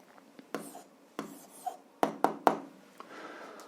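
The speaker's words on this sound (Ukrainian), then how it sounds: "Пишемо відповідь." A pen or pencil writes out the answer to a seventh-grade algebra exercise by hand, giving soft scratching strokes and a few sharper taps against paper, close and quiet, with no talking.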